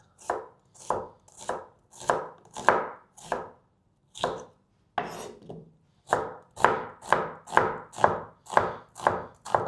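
An onion is sliced with a knife on a board, about fifteen crisp, evenly spaced cutting strokes in quick rhythm, with a short pause partway through, close and clear with no talking.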